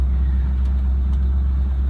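A 1957 Chevrolet Bel Air hardtop runs while driving, a steady low engine rumble heard from inside the car, with no talking.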